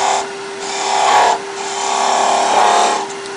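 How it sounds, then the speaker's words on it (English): A skew chisel cuts a small wooden peg figure spinning on a wood lathe, giving a steady high whirring hiss with a constant motor hum underneath that swells twice as the blade bites. "So with a skew, I'm going to mark the head"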